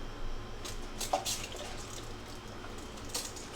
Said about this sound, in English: At the last moment, I'm going to add a few sprays of water